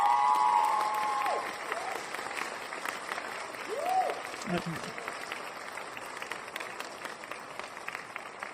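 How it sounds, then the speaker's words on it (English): Applause from a live audience at a talk on Jewish folklore, a dense wash of clapping that starts loud and settles to a steady, slightly quieter level, with a brief spoken word and a few voices heard over it. "Where is our applause, y'all?"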